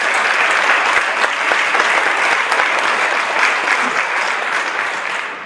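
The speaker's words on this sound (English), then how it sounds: "Let's give him another big round of applause" A large crowd gives a full round of applause, loud, dense and sustained for over five seconds, with sharp individual claps popping out of the wash before it eases slightly at the end.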